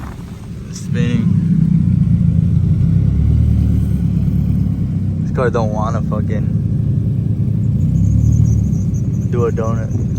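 A car revving on wet pavement during Hurricane Hilary while trying to spin a donut, a loud, sustained engine roar with faint tire squeal and voices talking over it.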